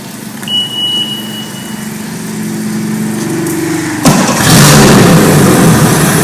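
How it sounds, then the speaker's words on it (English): An outboard boat motor on a flushing attachment with water running through it starts up cold; a starter pull is followed by the engine catching about four seconds in and running at a loud, steady rough idle, close by with no talk. "Boat starts up real easy."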